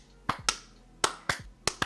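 Six crisp hand claps, close and clean, arriving in loose pairs with short pauses between them, with no talk over them.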